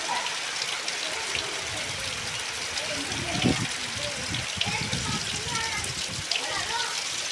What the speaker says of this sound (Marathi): मित्रांनो पाऊस बघा किती जोरदार पडतोय.